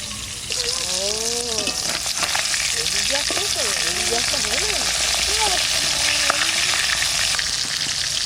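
Koi fish fry in hot oil with a loud, constant sizzle and crackle close by, while someone talks over it for much of the time.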